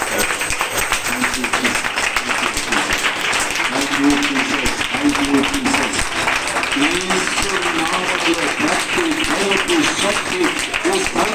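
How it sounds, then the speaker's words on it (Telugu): Congregation at a church branch opening clapping loudly together, sustained dense applause over ongoing speech and voices. "గట్టిగా ఒకసారి చప్పట్లు కొట్టి దేవుని"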